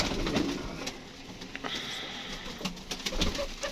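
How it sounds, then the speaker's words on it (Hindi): Pigeon near at hand, giving a few soft coos and rustles over a busy background of outdoor noise. "ये देखें दोस्तों माशाल्लाह कबूतर आया सामने यहाँ पे"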